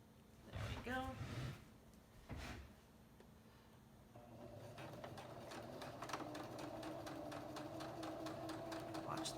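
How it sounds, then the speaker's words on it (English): A sewing machine stitching a fabric ornament made from a men's shirt closed: a steady, fast, quiet mechanical whir with rapid ticking, starting after a brief bit of talk. "Watch the needle when you're sewing over it"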